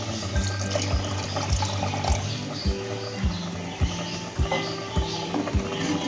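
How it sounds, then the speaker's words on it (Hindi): A cup of water is poured into a cooking pot of mutton paya, a steady liquid splash running under rhythmic background music with a regular thumping beat. "अगर ये पानी थोड़ा सा कम है तो मैं इसमें जो है वो 1 प्याली और शामिल कर रही हूँ पानी"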